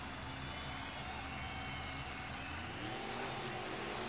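Racing trucks rev and accelerate hard off the starting line at a Pontiac, Michigan race, a dense, loud, continuous engine roar with rising pitch filling the whole stretch.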